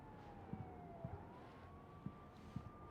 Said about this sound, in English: Sirens going after Max.